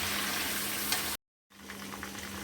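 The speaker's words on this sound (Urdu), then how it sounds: "اور ان سب کو بھی ہم اچھی طرح سے چکن کے ساتھ فرائی کر لیں گے جب تک کہ لہسن ادرک کا کلر چینج نہ ہو جائے" Chicken fries in hot oil with garlic and ginger, giving a loud, constant close-up sizzle that drops out briefly to silence before resuming.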